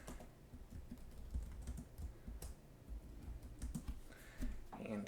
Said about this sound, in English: We're going to type in heating curve.